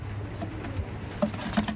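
Madras pigeons in a loft make low, quiet cooing sounds, a few soft bursts near the end over a faint background hum.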